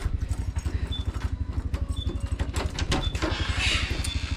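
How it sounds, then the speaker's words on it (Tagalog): Motorcycle engine idling close by, a steady low rhythmic putter that runs unbroken throughout, with faint background noise and music layered over it. "hindi pa na-off yung motor."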